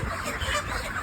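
Chickens cluck and squawk in a hot poultry shed while workers catch them, giving a dense, agitated clucking from many birds at moderate volume.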